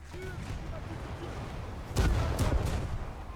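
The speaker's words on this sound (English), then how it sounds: "you can see how quickly these main caliber shells are coming in" Main-caliber shells from the cruiser Des Moines land in a naval battle in War Thunder, a couple of sharp heavy impacts bursting over a steady low rumble of battle noise.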